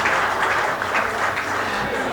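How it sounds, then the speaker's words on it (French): Audience applause at a Malaysian national day reception, a sustained wash of many hands clapping from a crowd, steady and moderately loud throughout. "Le monsieur général, sous vos applaudissements, s'il vous plaît."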